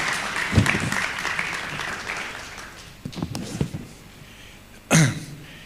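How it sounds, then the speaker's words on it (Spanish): Applause from a crowd at a university event in La Paz, Bolivia, dense clapping that gradually thins out, with a few scattered claps and a sharp louder burst near the end. "Vamos a dar un fuerte aplauso, por favor."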